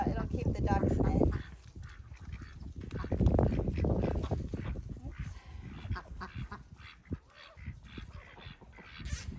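Ducks quack and honk loudly in a noisy flock close by, with bursts of harsh calls rising and falling while a person talks nearby.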